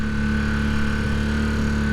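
Honda CB250 Super Dream motorcycle engine idling low in neutral after a rebuild, a steady close continuous hum with no rise or fall in speed.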